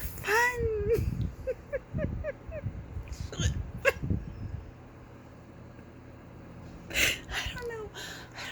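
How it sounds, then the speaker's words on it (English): Repeated hiccups from a person, sharp short gulping catches spaced through the stretch with breathy sounds between, close to the listener, plus a brief voiced sound near the start. "I don't know why I'm hiccuping."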